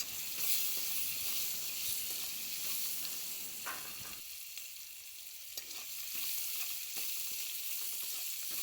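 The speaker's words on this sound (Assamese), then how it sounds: "এতিয়া এইখিনি অলপ ৰঙচুৱা হোৱালৈকে ভাজি থাকিম।" Vegetables with salt frying in a pan as they are browned, a steady close sizzle with occasional clinks and scrapes of stirring, no talk.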